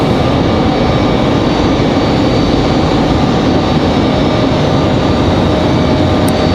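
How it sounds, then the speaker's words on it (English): A FedEx feeder ATR 42-300F cargo turboprop of Mountain Air Cargo arrives at Raleigh-Durham airport, a loud, continuous broadband engine roar holding steady throughout with no talk. "Here comes our second and final FedEx ATR. This one, the smaller one."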